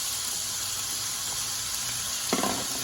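Onions hitting a pan still hot and greasy from fried sausage give a steady close sizzle, with a brief clatter of stirring near the end and no voices.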